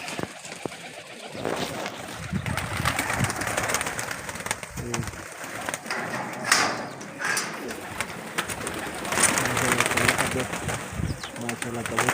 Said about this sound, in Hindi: माशाल्लाह देखो, कबूतर है, बहुत प्यारे प्यारे कबूतर हैं।